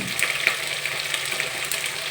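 Vegetables being tempered in hot oil in a home kitchen give a steady crackling sizzle with small spattering pops, close and continuous without talk.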